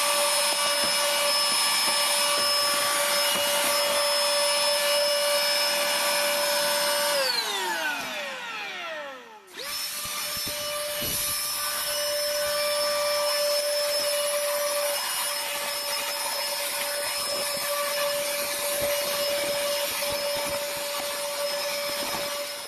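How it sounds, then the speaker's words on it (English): A vacuum cleaner sucking up small bits of plaster whines steadily at close range, its pitch dropping as it briefly cuts off, then starting up again and running on continuously. "my next job is to vacuum up all the little bits of plaster on the bottom there"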